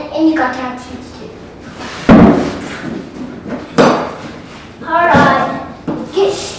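Several heavy hammer blows land at irregular intervals, loud and close, while a person talks between the strikes.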